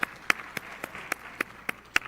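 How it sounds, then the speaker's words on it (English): Clapping in the House of Representatives, heard as sparse, sharp individual claps at a fairly regular rhythm, close and clear over a quiet room, with no voices. "Let's give him a round of applause."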